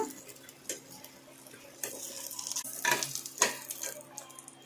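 Quiet frying in a pan, with soft sizzling and scattered clicks and scrapes of stirring, close up and without speech.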